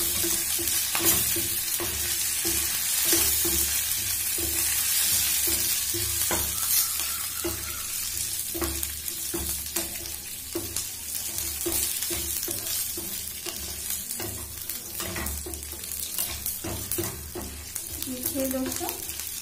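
Curry leaves and a dry red chilli sizzle hard in hot oil for a curd rice tempering, a loud steady crackle with stirring scrapes throughout and no talk.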